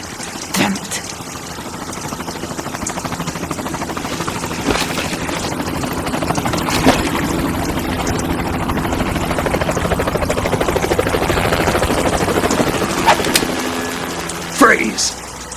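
Helicopter rotor thrum in the Metal Gear Solid 2 video game, a steady loud chopping drone throughout with voices talking over it and occasional clanks.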